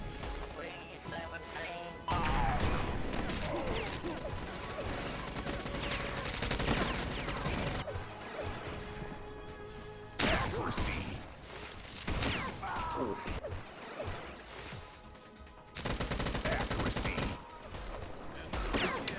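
Weapon fire in a first-person shooter biohazard deathmatch: rapid volleys, rocket bursts and crashing impacts, loud and near, coming in waves with short lulls between them.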